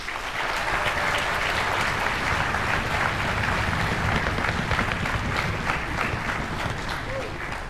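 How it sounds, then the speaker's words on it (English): Concert audience applauding after a school orchestra and symphonic winds fall performance, a full, steady roar of many hands clapping throughout, with faint crowd murmur underneath. "Can we give them a big round of applause, please?"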